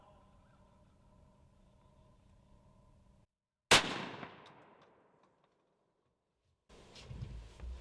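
A turkey hunting shotgun fires once during patterning practice, a single loud close blast that rings out and decays over about a second after a quiet lull, followed later by faint shuffling noise.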